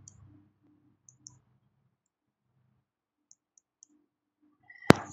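Fingers typing a meeting ID on a smartphone touchscreen give a few faint, sparse taps over quiet room tone, ending in one sharp louder click near the close.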